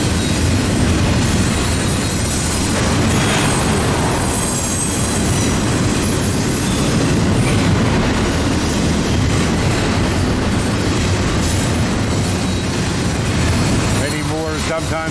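A loud, close mixed freight and intermodal train passes under the Route 219 overpass, a continuous heavy rumble of rolling cars with wheel squeal rising at the very end.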